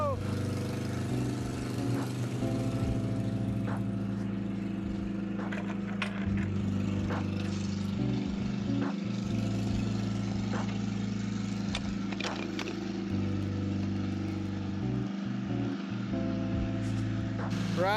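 A homemade chairlift at Area241 runs on a steady droning engine, loud and close throughout with a low, even rumble and faint rattles, while people talk over it.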